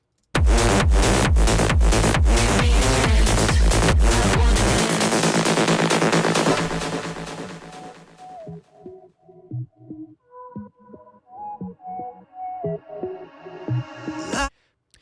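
Loud pounding electronic dance beat that cuts off, leaving echoing repeats of the music that fade away to quiet.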